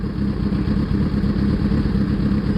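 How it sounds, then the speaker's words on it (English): A motorcycle engine runs steadily at idle in neutral after being started, a continuous close rumbling drone with an even, unchanging level throughout. "push the ignition. Now you start it."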